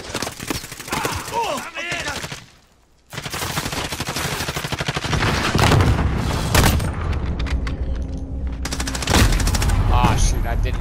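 A Kar98k rifle and other weapons fire in a Road to Damascus video game match, with dense, loud gunfire filling most of the stretch around one brief lull, while a player talks over it.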